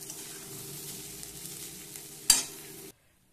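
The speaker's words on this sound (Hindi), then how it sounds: "अब इसे हल्के हल्के हम मिक्स करते हैं" Rice is gently folded into vegetables frying in a pan, a low steady sizzle with soft stirring and one sharper scrape near the end before it stops abruptly.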